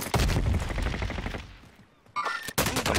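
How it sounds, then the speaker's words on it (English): Gunfire in the battle royale game Call of Duty Warzone, loud rapid automatic bursts that fade into a short lull before sharp shots return near the end. "Someone's firing at me."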